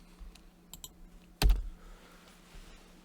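A computer keyboard used to type into a PC search box: a few faint, scattered key taps, then one loud, close clack, and a last soft tap.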